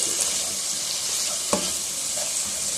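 Chicken manchurian sizzles steadily in a hot pan after vinegar goes in, a continuous bright crackle with one sharp stir or clank midway and no voices.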